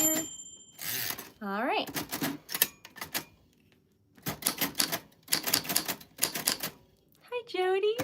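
Manual typewriter keys clatter in bursts with carriage-return ratchet sounds, sitting in close range and loud, broken up by a few brief spoken words and a whistle-like sweep.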